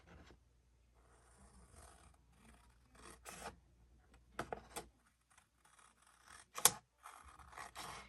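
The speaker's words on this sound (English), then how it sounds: "I'm just going to use my scissors, cut off all of those border strips" Scissors snip through paper border strips for a craft décor project in a series of separate, crisp cuts and rustles, some sharper and louder than others, with quiet pauses between them and no talking.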